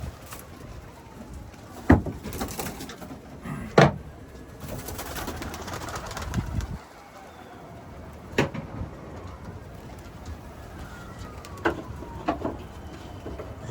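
Several pigeons or doves coo in soft, repeated phrases close by, with a few sharp knocks and clatters breaking through a steady outdoor background.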